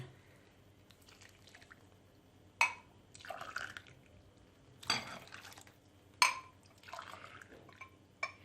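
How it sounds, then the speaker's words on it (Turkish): Hot water poured onto sugar in a pot for syrup, heard as a few separate splashing pours and stirring sounds with clinks between them, close and fairly quiet. "3 su bardağı da sıcak suyumuzu döküyoruz."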